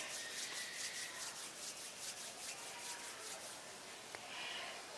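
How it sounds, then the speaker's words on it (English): Palms of the hands rub gently against each other during a guided meditation at a sacred garden, making a soft, continuous dry rubbing that stays faint and even throughout. "gently rub the palms of your hands against each other"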